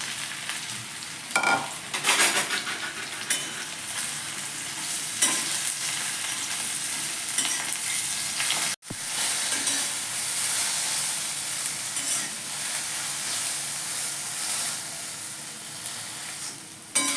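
Okra fries in oil in a kadai with a steady, close sizzle and hiss that runs nearly the whole time, broken by one brief drop near the middle.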